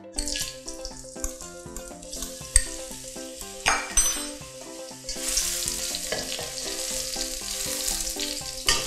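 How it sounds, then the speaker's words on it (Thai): Mushrooms stir-fried in hot oil in a wok for a chicken gravy noodle dish, a continuous crackling sizzle that swells louder midway, with spatula scrapes under a steady music bed. "ตั้งกระทะนะคะใส่น้ำมันรอให้ร้อนนะคะแล้วก็ใส่เห็ดลงไปผัดค่ะ"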